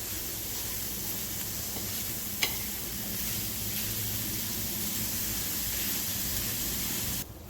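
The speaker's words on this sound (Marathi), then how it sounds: "तेल न टाकताच आता परतून घेऊ." Chopped spinach is dry-roasted in a pan with no oil, giving a soft continuous hiss and faint sizzle, with a sharp click of the spoon or pan partway through.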